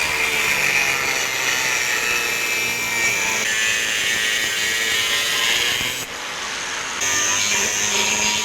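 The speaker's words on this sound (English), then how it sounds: "Getting some of that rubbish off there with my grinder. It's a lot of old rust and scale on this thing." An angle grinder scours thick old rust and scale off a steel piece for a knife-making job, a loud steady high-pitched whine and grind running continuously, briefly dipping near the end before resuming.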